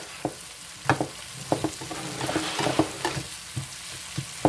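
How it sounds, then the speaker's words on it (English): Sliced onions sizzle in a hot pan for an onion casserole while a utensil stirs and breaks up clumps, giving irregular scraping taps over a constant close frying hiss, with no talking. "as the onions are cooking, you just want to kind of break up your chunks that are all stuck together from slicing them"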